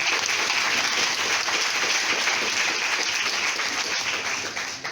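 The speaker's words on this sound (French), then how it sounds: "Vos acclamations peuvent être nourries plus que ça." Sustained crowd applause fills an investiture ceremony for a new association president, dense and steady throughout, tapering slightly at the very end.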